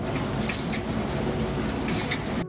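Steady rain pours outdoors during a car exhaust install, a dense, continuous hiss with no voices.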